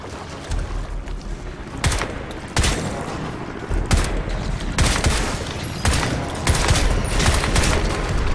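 Bursts of rapid gunfire from standard bullets in the shooter game Crysis 3, loud and close, with sharp repeated volleys and brief pauses between them.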